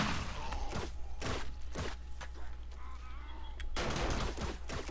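Gunfire from a shotgun and an automated turret fighting stragglers on horde night in the game 7 Days to Die, Darkness Falls mod: loud, sharp blasts spaced irregularly across the clip, with a steady low hum underneath.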